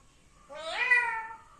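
A talking parrot imitates a cat's meow, a single drawn-out rising-and-falling mew lasting under a second, close and clear against a quiet background with no talk.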